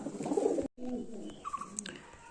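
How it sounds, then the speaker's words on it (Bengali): A male Kasmadama pigeon, a fancy breed, gives a few low, close cooing calls, briefly broken by a pause, with some light background noise. "তো তোমার নর পায়রা আছে, কাসমাদমা নর আছে।"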